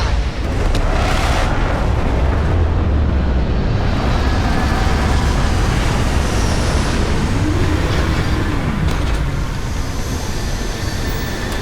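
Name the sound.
spacecraft retro rockets firing during landing, Starfield video game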